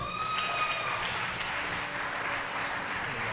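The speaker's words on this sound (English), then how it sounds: "so please clap for James Dolan." An audience at a story slam applauds a storyteller, a dense burst of clapping from a room full of people that holds steady for a few seconds.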